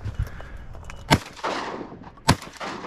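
Shotgun blasts ring out during a duck hunt in open marshland, two sharp loud reports about a second apart, each trailing off in a brief echo, with quieter rustling between.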